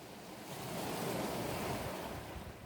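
Ocean waves break on the shore, a soft wash of surf swelling after a quiet start and holding as a broad, steady rush, with faint wind and no voices.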